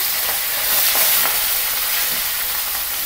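Pangas fish frying in a pan of hot oil, a loud continuous sizzle and crackle with faint pops, close by and steady, no talking.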